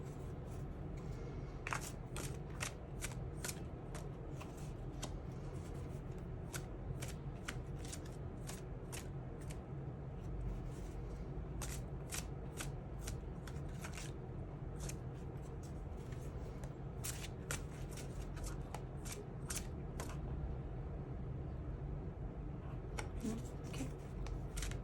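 Tarot cards are shuffled steadily for a card pull, giving a quiet, continuous riffle with many crisp flicks and slaps at close range and no voices.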